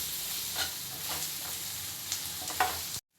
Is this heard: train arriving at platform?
no